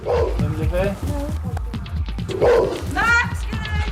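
A dog at a house barks several times, loud and close, with a couple of yips and whimpering tones, while people talk nearby on a street during a police visit.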